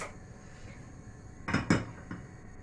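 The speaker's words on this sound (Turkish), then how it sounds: "Şimdi tenceremizi ocağa alalım." A few quick metallic clanks of a pot being set down on a stove sound close by over a faint background hum.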